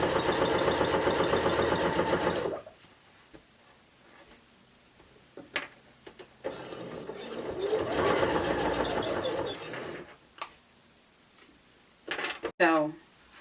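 A sewing machine sews a zipper pouch with a loud, steady close whir in two bursts, separated by quieter handling clatter and brief talking.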